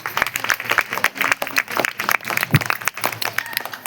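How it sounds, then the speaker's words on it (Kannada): An audience at a school Kannada Rajyotsava speech event breaks into sustained applause, many hands clapping in a dense, uneven patter for several seconds, fairly loud and close, with no talk over it. "ಈಗ ಎಲ್ಲರೂ ನಮ್ಮ ಕನ್ನಡಕ್ಕೆ ಜೋರಾದ ಚಪ್ಪಾಳೆ ಕೊಡಿ."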